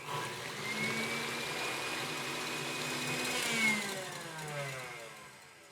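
An electric mixer whips egg whites with cream of tartar in a bowl, a continuous mid-pitched motor whirr that swells and shifts slightly in pitch as it runs.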